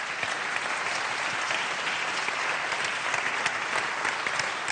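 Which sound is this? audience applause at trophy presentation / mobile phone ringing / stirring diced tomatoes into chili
audience applause at trophy presentation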